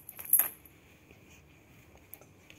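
Small antler bells on a kids' senses lapbook give a brief, faint tinkling jingle near the start, then only quiet scattered clinks in a soft, near-silent room.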